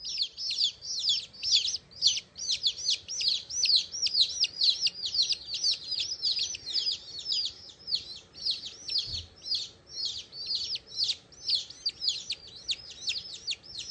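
Newly hatched chicks cheeping on a farm, a dense continuous flurry of high rapid peeps from several birds close by, with no talking.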